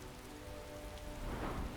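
Steady rainfall in the game Skyrim hisses continuously across the whole stretch, a dense, even patter that swells slightly toward the end with a faint low rumble beneath.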